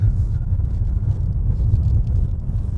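Mercedes-AMG CLS 63 S with 577 horsepower and 4MATIC all-wheel drive drifting on slick winter snow, heard as a steady low engine rumble from inside the cabin, with no talking.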